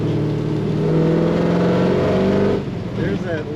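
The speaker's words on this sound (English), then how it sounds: "There's that lovely exhaust note when you get on the throttle" A 1967 Chevelle restomod with a 572ci V8 pulls hard under throttle, its deep exhaust note loud and steady from inside the car for a few seconds, then dropping away as the throttle eases, with a voice talking over it.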